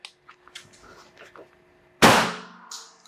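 A single sharp, loud report from a Benelli 1301 shotgun fitted with a Salvo 12 suppressor bursts out midway after quiet outdoor murmurs and small clicks, then decays quickly into silence.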